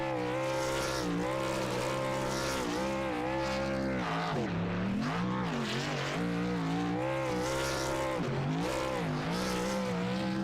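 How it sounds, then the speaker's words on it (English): Pulling truck doing a burnout on the front straightaway at St. Louis in a NASRA Triple M Pulling Truck Series virtual racing game, a loud continuous engine roar with rising and falling revs throughout. "he is gonna burn it down on the front straightaway here in St. Louis"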